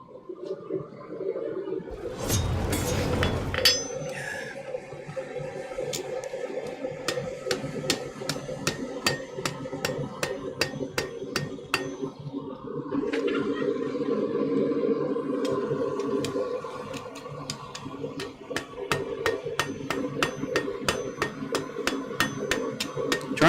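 Straight peen hammer striking metal in a smithy, a long run of steady, evenly spaced sharp rings under a continuous background hum, with a brief louder burst near the start.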